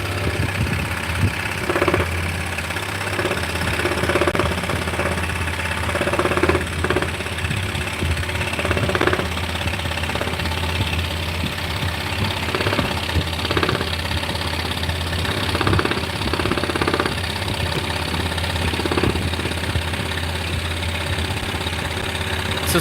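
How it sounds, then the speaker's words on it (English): A scroll saw cuts through cherry wood thicker than three-quarters of an inch, a steady loud mechanical chatter and rapid reciprocating buzz with rhythmic knocking pulses, continuous and close, with no voices. "This machine is called a scroll saw."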